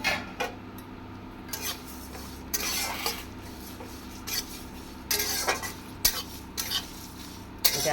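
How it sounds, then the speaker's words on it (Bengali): Whole spices and chillies fry in a pan, a soft sizzle under frequent scraping and rasping stirs of a spoon against the metal, close and steady, with no one talking. "লঙ্কাগুলো একটু ভাজা ভাজা হয়ে গেলে এই মশলাগুলো সব দিয়ে দেবো, দিয়ে ভেজে নেব"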